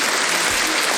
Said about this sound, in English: That's just a round of applause for you on there